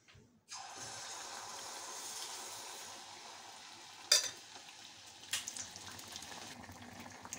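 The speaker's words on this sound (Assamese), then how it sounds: "এতিয়া মই কেৰাহীত তেল গৰম হৈ আছে মোৰ।" Bihu tel pitha frying in hot oil in a kadai, a soft steady sizzle that starts abruptly and runs throughout, with a couple of brief louder pops or clatters midway and near the end.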